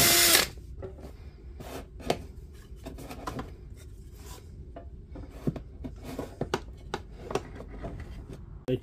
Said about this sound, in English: so it means drilling a hole.